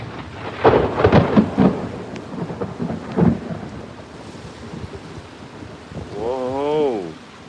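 A July evening thunderstorm rolls in with heavy, booming thunder over steady rain. The rumbles fade to a softer hiss, then a brief wavering tone rises near the end.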